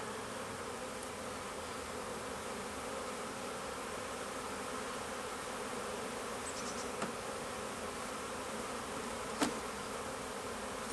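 Honey bees buzz around an open hive during an artificial swarm split, a dense, steady drone of many insects close by, unbroken for the whole stretch with a couple of faint knocks.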